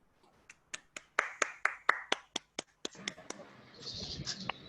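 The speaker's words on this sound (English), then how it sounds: "Big round of applause for them." A small audience at a Toastmasters evaluation contest claps with quiet, distinct hand strikes, a dozen or so crisp claps spaced unevenly, then trails into soft mixed noise and scattered clapping.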